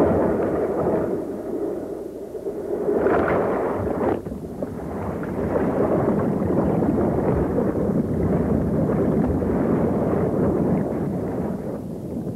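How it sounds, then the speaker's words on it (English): Churning, roaring water at a low-head dam rushes continuously with heavy turbulent rumble and a brief surge partway through as a boat is sucked under, loud and close with no voices. "Within seconds, the boat and everyone in it are sucked under."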